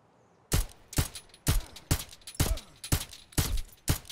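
Full-auto rifle fire in Escape from Tarkov, during an armor test against Slick armor. Eight sharp, loud reports come at a fairly even rhythm, about two per second, after a brief quiet start.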